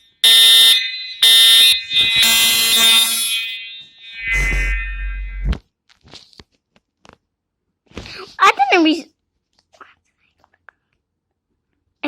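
An airport voice-evacuation fire alarm sounds loud and close, with harsh tonal alarm bursts in rapid sequence and a low rumble. It then cuts out, leaving quiet clicks and a brief whispered voice.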